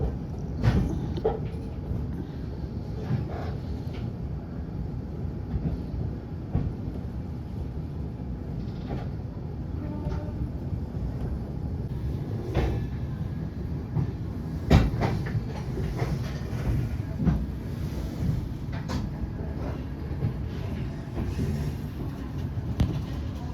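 The Patna Tejas Rajdhani rolls into Pandit Deen Dayal Upadhyaya station, heard from inside a first-class AC coach as a steady low rumble broken by irregular wheel clacks and rattles.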